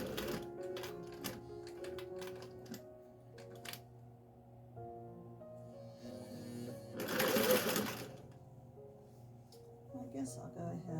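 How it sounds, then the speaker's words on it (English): A sewing machine stitches a line along the top of a scrappy fabric apron with a steady, rapid mechanical rattle, rising to a louder, busier run partway through while a person talks quietly over it. "I'll probably do 2 lines of stitching here."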